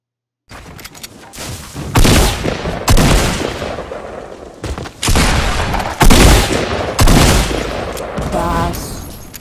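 Bursts of rapid gunfire from a Fortnite battle royale match, loud and close, with repeated volleys separated by brief pauses and faint in-game sounds between them.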